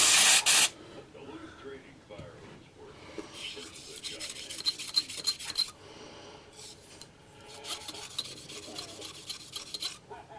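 One sharp hiss from a spray cleaner bottle opens the clip while cleaning guns, then scraping and rubbing sounds continue at a lower level alongside some talking.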